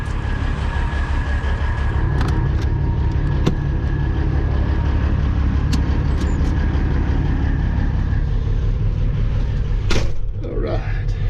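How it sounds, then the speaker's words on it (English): A Peterbilt truck dumps a load of rock from its trailer, a steady heavy rumble running throughout with a rattling, crunching burst near the end as the rock slides out. "Let's dump the load."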